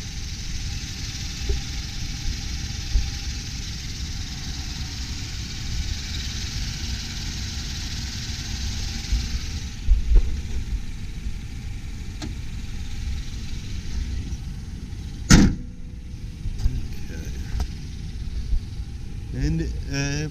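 A 2002 Chevrolet Tracker ZR-2 with a V6 idles at a steady low rumble, with a brief clunk near the middle and a couple of small knocks; someone talks over it for much of the time.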